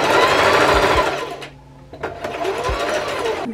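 A sewing machine stitches a pixie wig in fast, loud, continuous runs, pausing briefly in the middle before whirring again.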